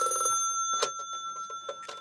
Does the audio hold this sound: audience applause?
no